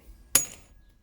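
One sharp metallic tap rings out close up, a single hammer strike on a centre punch against a Harley-Davidson fork damper rod, with a brief fading ring in a quiet room.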